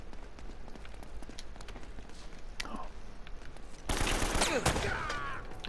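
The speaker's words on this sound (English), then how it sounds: "They're shooting at you too" Gunfire in Uncharted: Drake's Fortune crackles in scattered shots through the first half, then swells into a louder, denser burst of rapid fire with debris-like noise toward the end, with no talk over it.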